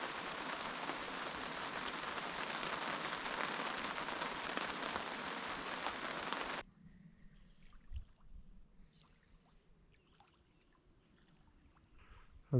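Dense, steady patter of rain drumming on a tent by a lake, then it cuts off abruptly, leaving quiet with faint drips and a soft thump.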